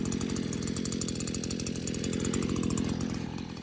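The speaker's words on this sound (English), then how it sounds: "But with these skid steers, it's a little different getting grass, I believe." A skid steer loader working grass beside a block retaining wall in Jacksonville, Florida, its engine giving a loud, steady, buzzing drone with no break.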